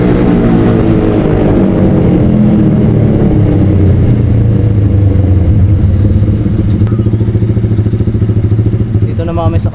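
A motorcycle engine drones steadily at close range, its even rumble holding throughout with a slight shift in pitch toward the end.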